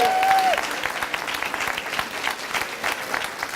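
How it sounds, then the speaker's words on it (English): An audience claps for teachers at a school vision program announcement, steady dense applause filling the room throughout, with a brief tone at the start. "let's give a round of applause to all the teachers who we have here with us today."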